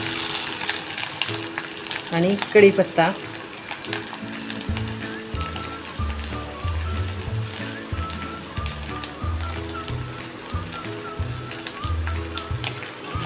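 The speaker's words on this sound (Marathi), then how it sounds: "त्यात आता फोडणीला टाकूया हा कांदा" Chopped onion with curry leaves, mustard seeds and cumin crackles and sizzles as it drops into hot oil for tempering, with spatters and stirring, while a voice speaks briefly over it.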